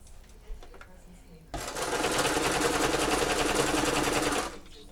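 Sewing machine stitching straight over pins left in the fabric, a loud close motor whir with fast rattling needle rhythm for about three seconds, then stopping, with faint background sounds before it starts.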